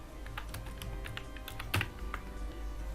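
Rapid, close-up clicking of a computer keyboard as a business name is typed, with uneven bursts of keystrokes and one louder clack, heard alone without talk.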